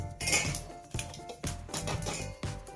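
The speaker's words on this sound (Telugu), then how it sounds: "పల్లీని కొంచెం ఇలా వేయించుకోవాలి లైట్గా" Peanuts being lightly roasted in a pan rattle and clink against the metal in a few loose bursts as they are stirred and tossed, close by and with no talking.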